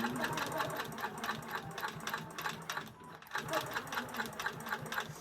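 A sewing machine stitches a quilt seam, a fast rhythmic mechanical chatter of needle strokes that briefly pauses near the middle and then resumes at the same pace, with no talking.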